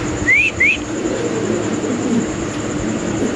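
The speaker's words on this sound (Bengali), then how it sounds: "সো দর্শক এখানে আছে এক পিস কবুতর মাশাআল্লাহ খুব সুন্দর" A Spanish pigeon at a bird seller's gives two quick rising coo-like calls near the start, close and clear, then steady low background hum and noise follow.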